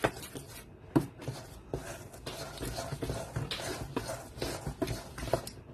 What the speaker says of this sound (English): I'm just going to take a spoon and mix it all up